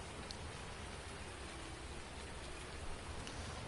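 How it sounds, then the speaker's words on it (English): A storm's rain hisses in an even, continuous wash in a PS4 farming game on the No Man's Land map, faint and unbroken, with no distinct thunder. "Storm's rolling through."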